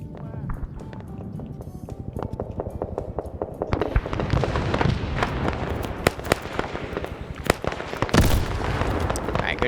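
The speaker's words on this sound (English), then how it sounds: "Alright, good grenade throws here." Grenade explosions in the video game Arma 3 SOG Prairie Fire, a series of sharp blasts and cracks in rapid irregular succession among other combat noise, loud and dense throughout.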